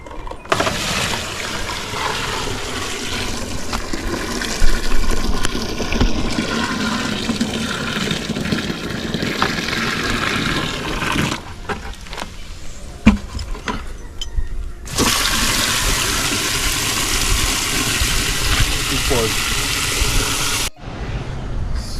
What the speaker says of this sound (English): then I'm gonna have the toilet flush, and so you could see how it works